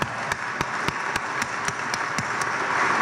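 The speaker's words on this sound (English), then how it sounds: "I really want to give a huge round of applause to this guy right here" Crowd applause at a city climate plan release celebration in Somerville, a steady wash of clapping with a few sharp individual claps standing out and growing slightly louder toward the end.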